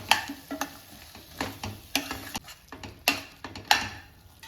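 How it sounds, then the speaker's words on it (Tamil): Ground masala paste sautéing in a pan for a drumstick paya curry: repeated close scraping stirs and spoon taps over a soft sizzle, in an irregular rhythm. "சேர்த்து இதையும் நல்லா அப்படியே வதக்கி விட்டுருவோம்"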